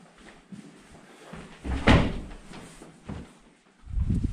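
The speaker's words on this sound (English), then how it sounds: "I can see a door shut on the own." At an abandoned mansion hotel, a door shuts on its own with a sharp thud, followed by softer knocks and another dull bump near the end, set against quiet indoor ambience.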